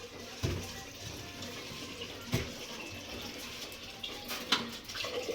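Water running and splashing from a household tap, a steady broadband wash with a few louder splashes, fairly close and heard alone without talk.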